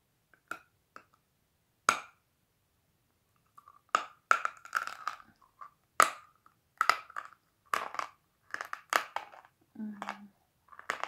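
Sharp, irregular crunches and cracks close to the mic as sawn chalk is eaten, bursts of brittle chewing separated by silences, with a faint voice briefly in between.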